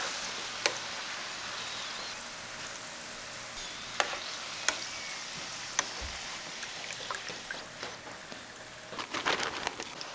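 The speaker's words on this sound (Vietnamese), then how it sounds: "Sau đó mình cho khoai tây vào chiên tiếp lần thứ hai." Oil sizzles steadily with a broad crackling hiss as potatoes fry a second time, punctuated by a few sharp pops and a busier burst of spattering near the end.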